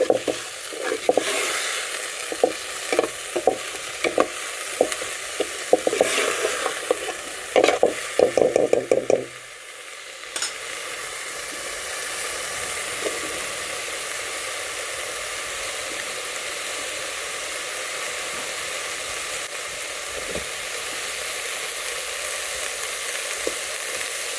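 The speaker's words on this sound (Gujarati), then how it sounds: "ચૂલામાં આપણે બળતું વધારે કરી દીધી એટલે હવે છે ને ફટાફટ બની જશે ભાજી" Fenugreek greens sizzle and crackle in a pan over a wood-fired stove, with a spoon stirring and scraping in quick clatters for several seconds before the frying settles into a steady, close hiss.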